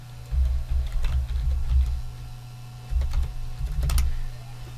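Password being typed on a computer keyboard while setting up a Retropie arcade machine, with two short bursts of close, rapid key clicks over a low steady hum.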